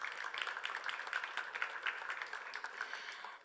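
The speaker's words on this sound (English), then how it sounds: "An applause, please." Light applause from the audience at a health-technology innovation forum, a quiet, fairly steady patter of clapping at a distance that fades out at the end.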